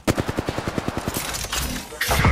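A video game weapon fires a rapid automatic burst, about a dozen close, loud, evenly spaced shots, followed by a rougher blast of noise at the end.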